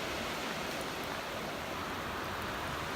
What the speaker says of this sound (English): a downpour.